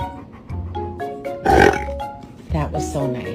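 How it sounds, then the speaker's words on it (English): A dog lets out a short, rough burp, loud and close, set between stretches of a person talking in a playful voice. "Can you give me a burp?"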